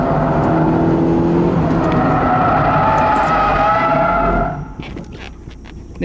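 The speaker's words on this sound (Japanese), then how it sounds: "スピンしてみましょうか" A Mazda NA Roadster spins out on a pylon course, its tires skidding and squealing loudly over engine noise for several seconds before the slide dies away into quieter idling and small knocks.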